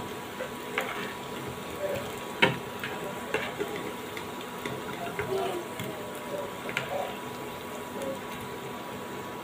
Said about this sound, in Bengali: আমি উল্টে পাল্টে লালচে করে একটু ভেজে নেব